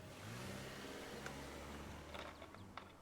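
An old BMW engine drones steadily as the car drives along a remote road in the Scarlet Hollow video game, a quiet low hum with faint clicks and rattles over it and no voices.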